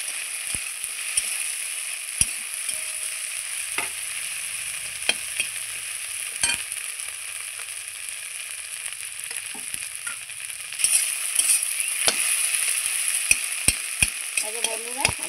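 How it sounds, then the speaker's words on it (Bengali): Green chilli and black cumin stir-fry in hot oil, a steady close sizzle with sharp scattered clicks of a spatula scraping the pan, growing busier near the end. "মিক্স করে ভেজে নেব।"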